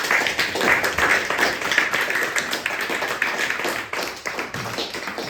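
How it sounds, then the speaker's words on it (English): A round of applause during a discussion gathering, dense and fairly close clapping with sharp taps that carries on steadily without pause. "Big round of applause."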